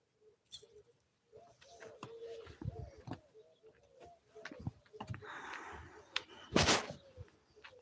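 Outdoor birdsong with scattered chirps and cooing calls, moderately near, plus faint rustling and a brief louder noise partway through.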